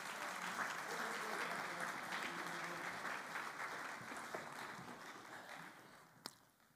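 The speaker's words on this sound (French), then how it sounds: "Est-ce qu'on peut quand même les applaudir?" Congregation applauding during a church service in Brest, sustained dense clapping that gradually thins and fades toward the end, with a brief louder clap near the close.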